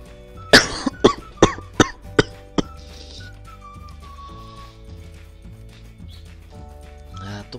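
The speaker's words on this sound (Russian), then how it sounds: "А, тупой кашель." A person coughs in a rapid burst of about six harsh coughs, close and loud, then quieter throat noises as a low game soundtrack continues underneath.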